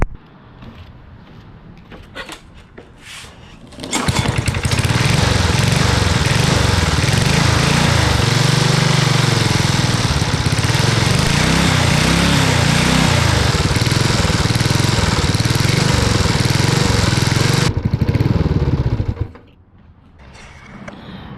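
A lawn mower with a newly welded exhaust fires up and runs loud and steady for about fifteen seconds with a rough mechanical chatter, then shuts down. No one talks.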